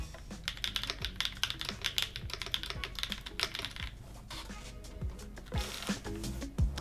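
Rapid, crisp key clicks come from a computer keyboard typed at close range, a dense clattering burst with a brief pause before more presses and a few heavier thocks.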